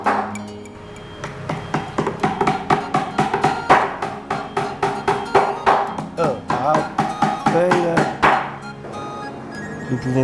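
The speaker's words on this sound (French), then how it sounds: "Il faut maintenant la clouer définitivement sur le corps." A hammer drives nails through stretched hide into the wooden body of a traditional Chinese drum, sounding as rapid, regular ringing strikes close by, with a few pauses between series and a resonant metallic ping on each blow.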